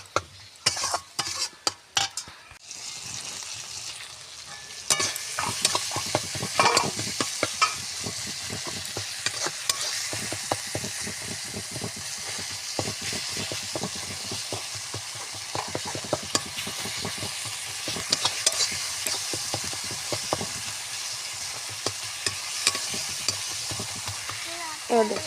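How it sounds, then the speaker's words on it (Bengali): Meat frying with turmeric and spices in a pan, stirred constantly, loud close sizzling with rapid scraping and clatter of the spoon throughout, no voices. "এবার ভালোভাবে আমরা মিটটা মিশিয়ে নেব।"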